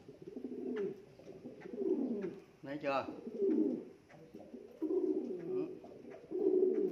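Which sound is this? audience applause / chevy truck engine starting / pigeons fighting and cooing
pigeons fighting and cooing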